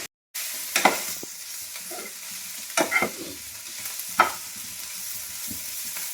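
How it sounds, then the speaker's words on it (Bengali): Vegetable fritters made with cabbage, cauliflower, capsicum, onion and radish fry in a pan, giving a steady sizzle with a few louder stirring scrapes and clatters throughout. "এখানে সব রকম সবজি দিয়ে বাঁধাকপি ফুলকপি ক্যাপসিকাম পেঁয়াজ তারপরে হচ্ছে কি মূলো সব দিয়ে বড়া করেছি, আর এগুলো ভাজা করছি"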